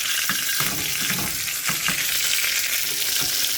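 An onion burger patty frying in a pan until brown and starting to smoke, a loud, close, steady hiss of sizzling fat with a few soft knocks and scrapes, no talking.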